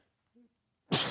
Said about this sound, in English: a big dirty sneeze right there.